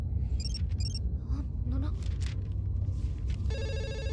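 Landline telephone ringing in a comedy film scene, short repeated electronic ring bursts at first, then a sustained harmonic ringing tone at the end, mixed with background rumble and other sounds.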